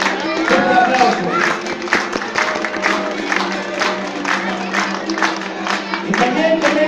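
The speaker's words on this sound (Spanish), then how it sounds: "¡Fuerte el aplauso!" An outdoor audience at a Casa de la Cultura event claps and cheers for workshop teachers, with a steady run of scattered claps and shouting voices mixed into crowd noise throughout.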